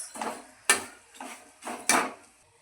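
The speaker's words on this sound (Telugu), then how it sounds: "ఇప్పుడు కాకరకాయ ముక్కలు వేసుకొని కలుపుకోవాలి ఫ్రెండ్స్" Bitter gourd pieces being stirred in a pan, with a utensil scraping and clinking against the metal in five or six uneven strokes, close and moderately loud, with no talking.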